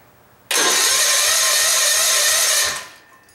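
A vehicle engine with a fuel-line blockage fires up as the gas pedal is held down, bursting in suddenly to a loud, steady, high-pitched roar for about two seconds before dying away.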